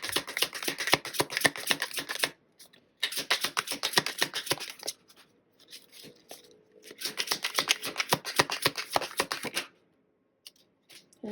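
Tarot cards shuffled by hand in three long bursts of rapid, crisp riffling flutter, close and fairly loud, separated by short pauses with no talking.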